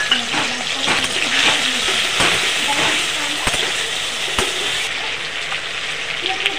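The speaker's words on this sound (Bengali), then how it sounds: "আগে থেকে চিংড়ি মাছগুলি নুন হলুদ মাখিয়ে রেখেছিলাম, সেইগুলো একটু ভেজে নেব নেড়ে ছেড়ে।" Prawns marinated in salt and turmeric fry in hot oil, giving a continuous hissing sizzle with sharp spits and clicks scattered through it.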